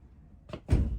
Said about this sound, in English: Wow, the door is shut.